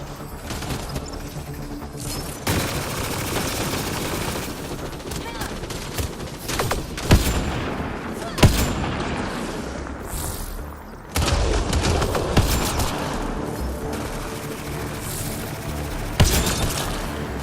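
Gunfire in Mass Effect Andromeda: sustained bursts of rapid shots with sharp single cracks and booms over a busy combat din, with a short lull partway through, and voices speaking at times.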